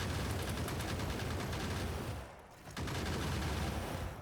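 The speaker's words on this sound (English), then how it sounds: "these gun turrets are firing like crazy" Dense, continuous automatic gunfire from gun turrets in the Factorio game, a steady loud rattle that dips briefly about midway before resuming at full intensity.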